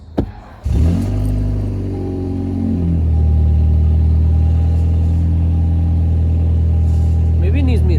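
A 2022 Toyota Camry LE cranks briefly and its engine catches, then settles into a steady, loud idle rumble up close inside the car.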